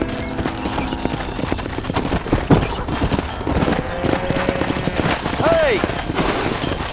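Horse hooves clip-clopping at a gallop in the Red Dead Redemption video game, with a whinny near the end, layered over game sounds and some voices.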